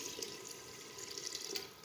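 Water poured into a pot of cooking meat (katwa gosht) after the ghee has separated, a steady splashing, running pour that is fairly faint and continuous throughout.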